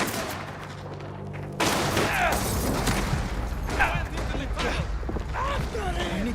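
Grenade explosion and gunfire from combat in a Mafia video game, a broad burst of blasts and shots running throughout under shouted talk and game noise.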